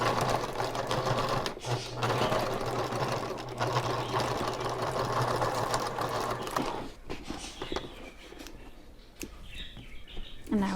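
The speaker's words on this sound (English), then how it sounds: "I'm going to just sew over this whole seam again" A sewing machine stitches back over a thick seam on a handbag, running in a steady, close whir for about seven seconds before easing into a quieter, more broken hum.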